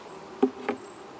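Honey bees buzz around hive frames, with two brief, faint buzzing passes close to the microphone over a quiet background.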